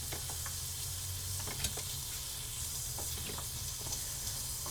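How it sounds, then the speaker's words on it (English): Diced onion sizzles steadily in a hot pan alongside browning meat, a continuous close frying hiss broken by a few soft clicks of stirring. "Going to add our diced onion."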